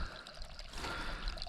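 Meltwater from rain and thawing snow trickles and pours into a small drilled ice-fishing hole on early-spring river ice, a soft continuous gurgling dribble close by with no voices.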